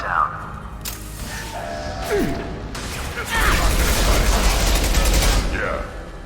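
A heavy shutter mechanism closes in Mass Effect 2, with clanks, whooshes and grinding that swell into a loud, sustained mechanical rumble in the second half, over game effects.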